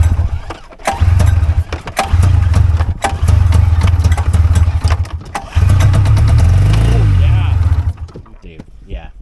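A cheap, old $600 snowmobile engine running on extra choke and in need of a carburetor clean sputters to life in loud, close, uneven pulses, revs and surges, stumbles briefly, then fades out near the end.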